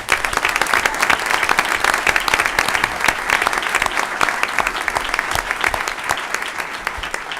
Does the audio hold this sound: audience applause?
yes